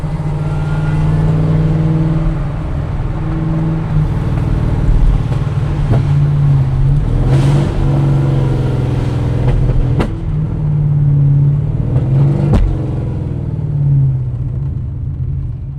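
A deep, throaty sports car engine rumbles loudly nearby at a nighttime car meet, with repeated revs rising and falling over a continuous low growl.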